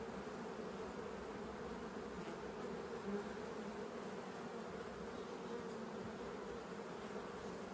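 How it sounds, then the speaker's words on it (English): Honey bees buzz in a dense, continuous drone on a hive frame, a thick steady hum that stays level and close throughout. "there's a ton of bees just on that frame"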